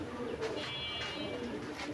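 Pigeons coo softly in a pigeon loft where a bird has been sitting on eggs, low murmuring calls repeating under steady background noise, with a faint voice nearby.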